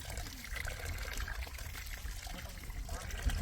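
Farm water pours and splashes over goat tripe as it is washed outdoors, a continuous watery trickle and slosh at close range with faint voices in the background.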